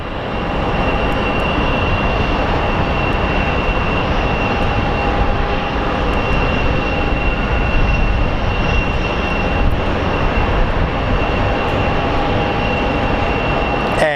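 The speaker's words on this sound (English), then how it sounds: "here comes our little Embraer" Embraer regional jet approaching Phoenix Sky Harbor International Airport, a loud continuous engine roar with a steady high whine, sustained and even across the whole stretch, no voices.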